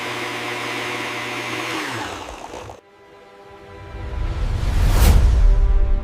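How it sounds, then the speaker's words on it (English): A blender purees whole fruit with skin and pulp into a smoothie, whirring loudly, dropping off briefly, then revving back up into a rising, steady whine, with no talking. "If you have a blender, make a smoothie."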